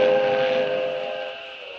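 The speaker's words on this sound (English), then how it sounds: "I'd get aboard that train if it weren't so slow." A train crossing a long railway trestle, its steam whistle holding a steady sustained tone that fades gradually over a couple of seconds with no voices.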